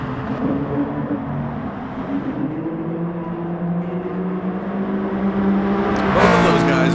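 A race car engine in the video game Gran Turismo Sport, lapping Laguna Seca, holds a steady droning whine that rises slowly in pitch as the revs build. Someone talks over it, and a brighter, louder burst comes near the end.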